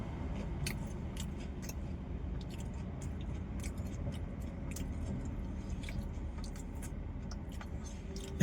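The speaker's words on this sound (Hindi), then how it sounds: "तो पहली बाइट ले लेता हूँ मैं।" Close, crunchy chewing of a snack of chickpeas, paneer, onion, carrot and capsicum with chaat masala, eaten outdoors on a foggy winter morning, soft irregular crunches over a low steady background rumble.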